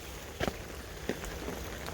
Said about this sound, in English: still peeing it down the rain